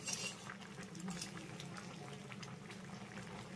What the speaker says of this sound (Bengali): আমি এইভাবে ঢাকা চাপা দিয়ে সবজিটাকে দুই মিনিটের মতো ফুটিয়ে নেব